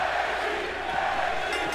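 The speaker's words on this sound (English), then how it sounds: "The crowd is going wild." Crowd in WWE 2K20 wrestling video game roars in a loud, sustained wall of cheering and chanting that stays dense and even throughout.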